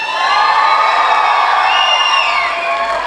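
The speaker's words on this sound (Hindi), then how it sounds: "जितना शोर शराबा आ रहा है पीछे से आ रहा है, जितनी सीटियां तालियां सब वो देखो पीछे से" A large audience at a comedy performance in a grand-finale stage show whoops, whistles and claps, loud and close, a dense continuous roar with shrill whistles streaking over it.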